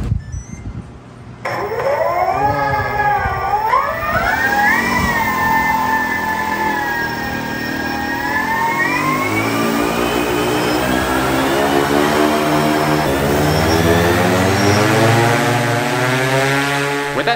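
Four large ducted-propeller drone motors on a paramotor rig spin up for a thrust test, a loud whining roar that rises and wavers in pitch before climbing to a sustained, buzzing howl.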